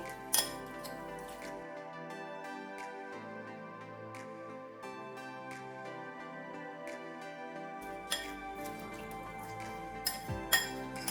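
Marinated prawns stirred with salt and turmeric in a bowl for Bengali chingri malai curry: a spoon clinks and scrapes against the dish in irregular, close taps, with a few sharper knocks near the end and no talking.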